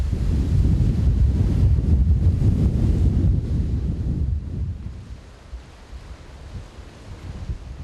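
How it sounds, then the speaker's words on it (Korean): Rough sea off a Jeju fishing port in rain and storm, with heavy wind buffeting the microphone and waves crashing, loud and dense at first, then easing into a lower, steadier rush of surf and gusts. "파도는 험상궂은 모습으로 바다를 몰아붙인다."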